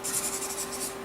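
A pen writes a name on paper during an eye test, a brief run of scratchy strokes close up, soft and quick, with a faint background hum.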